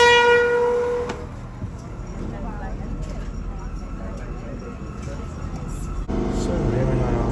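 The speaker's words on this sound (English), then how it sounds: "So there's our train coming in." A train rumbles and rolls into a station in Northern Ireland, and a horn-like tone sounds at the start. The sound is loud and close, with a steady mechanical roar and a brief clank near the end.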